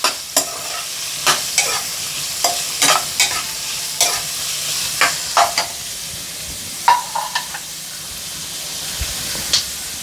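Chopped garlic, onion and green chilli fry in a pan with a steady close sizzle, stirred in repeated scraping strokes that come as short irregular bursts over the hiss.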